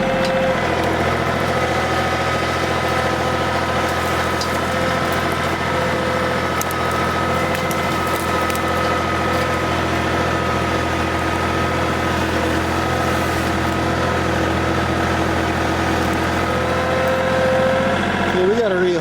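A John Deere 3025e tractor in four-wheel drive drones loudly and steadily as it plows too deep into dirt, holding an unbroken engine hum throughout.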